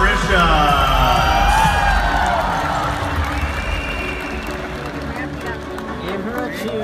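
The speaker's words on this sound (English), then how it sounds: "Give her a cheer, because this dress was made here." A pageant audience at a national costume presentation cheers, whoops and applauds loudly and steadily throughout, with a host's voice talking over the crowd noise.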